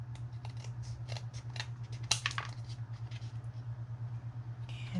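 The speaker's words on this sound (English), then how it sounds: "Then I'll use my scissors, just trim away that excess." Quick, crisp scissor snips cutting paper close by, in short irregular bursts over a steady low hum.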